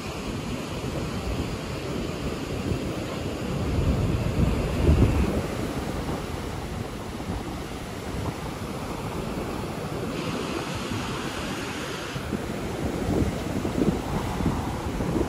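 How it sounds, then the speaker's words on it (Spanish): Ocean waves wash onto a windy Florida beach in winter, a loud continuous roar of surf with gusty wind buffeting the microphone and a few swelling breakers, with no voices. "En invierno, como hay bastante viento, hay varias olas."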